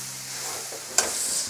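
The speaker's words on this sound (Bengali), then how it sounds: "এইভাবে কিছুক্ষণ ভাজা ভাজা করে নিলে ভালো" Grated radish sizzling in hot oil in a frying pan, a soft steady fry with one sharp scrape of a spatula stirring it partway through, close and fairly quiet.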